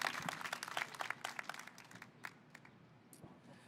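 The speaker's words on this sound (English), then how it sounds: "let's hear another round of applause for McCadger." Applause from a summer concert audience, a dense patter of clapping that starts strong and gradually thins and fades toward the end.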